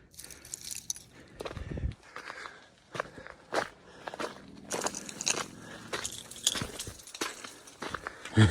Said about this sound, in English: It's just ice and all these leaves.